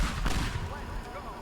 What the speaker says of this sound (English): it's raining explosions